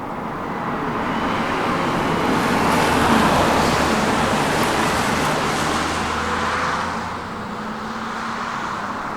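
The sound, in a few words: Lexus IS 350 V6 engine rumble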